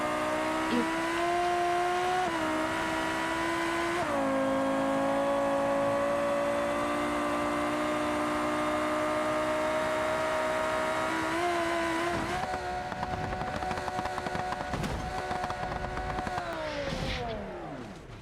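A car in the BeamNG.drive driving game revs and shifts through gears, its engine tone stepping up and down, with tire noise and rough bumps near the end.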